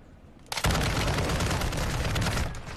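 Video game shooter gunfire erupts after a half-second of quiet into a dense, continuous burst of rapid shots, loud and sustained to the end.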